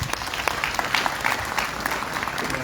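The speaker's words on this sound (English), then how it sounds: "I think he deserves a better clap than that." Audience clapping at a university graduation ceremony, a steady wash of many hands applauding throughout with no pauses, moderately loud and continuous, like a crowd filling a hall.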